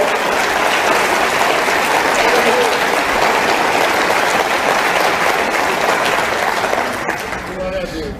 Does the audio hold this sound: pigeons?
no